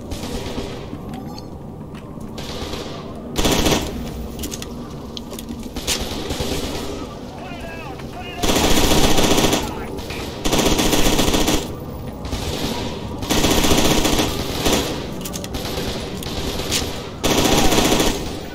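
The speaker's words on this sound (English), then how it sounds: "Did they update the gun audio for this DLC?" Rapid automatic gunfire in the shooter game FEAR 2 Project Origin comes in loud sustained bursts with short pauses between them, and a voice talks over parts of the firing.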